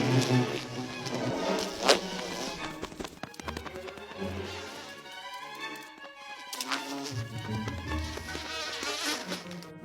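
Bees buzz around forest flowers, a faint wavering drone mixed under a fuller background score.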